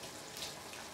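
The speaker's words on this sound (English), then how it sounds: "Okay, Jacqueline, now it's time to add the water and the spinach." Half a cup of water is poured into a cooking pan for spinach, a brief soft steady pour heard alone.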